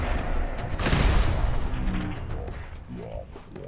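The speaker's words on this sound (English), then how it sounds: "I'm shooting an RPG at your head" RPG rocket launcher fired in the shooter game Fallout 4, a loud booming blast swelling around the one-second mark, followed by crashing debris and a trailing rumble.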